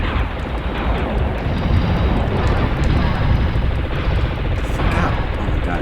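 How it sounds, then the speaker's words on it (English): Dense, continuous explosions and rumbling booms from the PS1 video game One roar throughout without a break, with voices faintly underneath. "Explosions."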